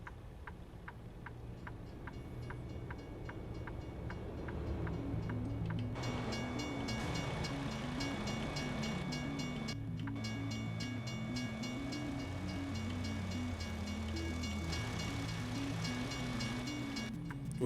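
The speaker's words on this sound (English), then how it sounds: "Oh, the train's actually over there. It's coming on over there." A train rolls past in the distance, a steady rumbling wash of rail noise with repeated rhythmic clicks and a rising, sustained drone, and no talking over it.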